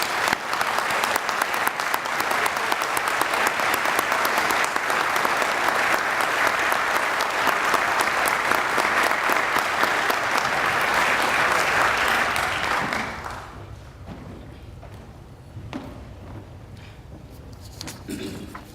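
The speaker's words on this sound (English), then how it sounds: "Let's have a warm round of applause for our amazing honorary initiates." Audience at a college reunion opening assembly applauding honorary initiates at an ODK spring initiation, a loud dense roar of clapping sustained for about thirteen seconds before fading into scattered claps and quiet room noise.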